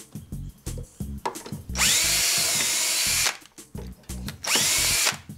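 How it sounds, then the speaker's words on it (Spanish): Electric drill with a 5/16 bit bores into MDF: short stuttering bursts of the motor, then two longer steady high whines as the bit cuts through the board, close and loud. "Un poco más de revoluciones al taladro."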